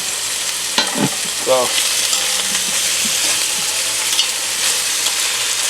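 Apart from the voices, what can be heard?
beef searing in a pan with lard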